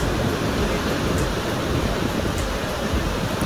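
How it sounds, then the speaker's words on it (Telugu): Niagara Falls seen from the US New York side, its water pouring in a steady, dense roar of broadband rushing noise with no let-up and no voices. "మీకు వచ్చేసి ఒరిజినల్ వాటర్ ఫ్లో సౌండ్ పెట్టాను"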